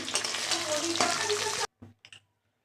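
Hot oil sizzles loudly and steadily as rohu fish fries for over a second and a half, then cuts off, followed by a few brief clinks and rustles.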